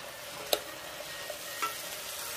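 Eggplant and king oyster mushrooms stir-fried in a pan, a soft continuous sizzle broken by a few spatula knocks and scrapes, close but fairly quiet, with no voices.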